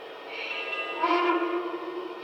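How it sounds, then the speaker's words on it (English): A Lionel Erie Vision Triplex model locomotive sounds a sustained electronic whistle chime, a steady close tone that brightens midway, with no talking over it. "You'll hear a bell chime and a whistle chime when it's in sequence control."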